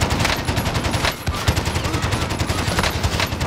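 Call of Duty Warzone gunfire from the Cold War era comes as rapid automatic fire, a dense stream of close, loud shots. It runs almost without a break, with one short pause early on.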